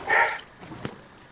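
A small dog in the Minecraft video game gives a single short bark, faint and in the background, with a brief click afterward.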